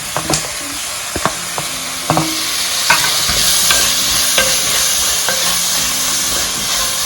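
Small chopped tomatoes sautéing in a pan, a steady hissing sizzle broken by repeated sharp clinks and scrapes of a spoon stirring, close and fairly loud, without talk.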